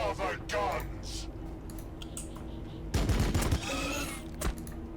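Gunfire in the strategy video game Warhammer 40k Battlesector, with Space Marine heavy fire support against Tyranids: rapid machine-gun bursts and a loud volley near the middle over a rumbling battle background, while someone talks.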